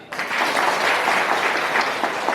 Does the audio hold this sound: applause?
yes